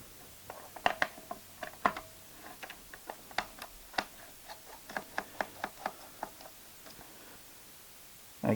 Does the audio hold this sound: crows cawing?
no